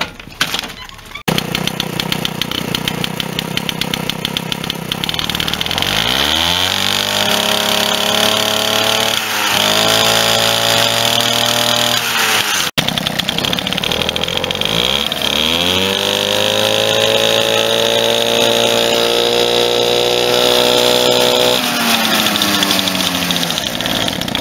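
A scooter motor runs steadily during a variator and drive belt test, revving up twice in rising whines that hold and then drop back to idle, loud and close with no talk.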